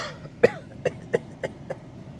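A person coughs five times in a row, close and fairly loud, with short pauses between the bursts and no talk over them.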